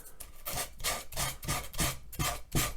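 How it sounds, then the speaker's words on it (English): Sandpaper worked back and forth over a wooden furniture top, making rhythmic rasping strokes about four per second, close and steady, with no voices. "I'll sand all those"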